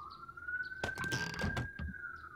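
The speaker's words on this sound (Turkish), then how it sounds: "Dışarıdan gene bir ambulans." A distant ambulance siren wails outside in the survival game 7 Days to Die, a steady drawn-out tone running under a cluster of louder door-like thumps and clatter close by.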